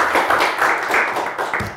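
A studio audience applauds a contestant on a Turkish word game show, a short burst of brisk clapping that fades slightly across its length, with no voices over it.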